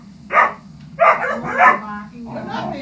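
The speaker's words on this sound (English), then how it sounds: "Puppies are being crazy." Puppies barking indoors, four loud yapping barks in quick succession with short gaps, close to the listener.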